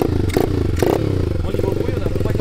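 A motorcycle engine runs loud and close, pulsing steadily with a couple of sharp revving bursts or clattering thumps early on, while people talk over it.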